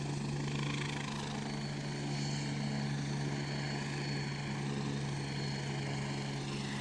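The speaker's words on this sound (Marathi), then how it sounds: "भुजबळांचं हेलिकॉप्टर हे हेलिपॅड सोडून पार्किंगमध्ये इमर्जन्सी लँड करण्यात आलंय" A helicopter's steady, droning rotor and engine noise during an emergency landing in a parking lot instead of the helipad, continuous and fairly distant, with no voices.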